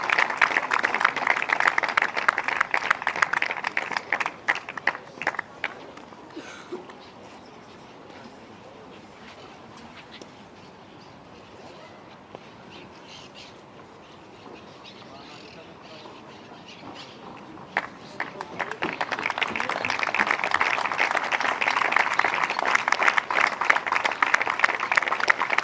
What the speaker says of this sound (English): Please, big applause for Piti de Glot and Tiske Grifoen.